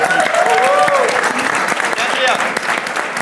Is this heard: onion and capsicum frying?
no